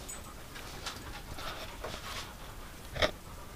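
Dog panting close by in a museum cabin, soft quick breaths with a louder snort-like burst near the end, and no talking.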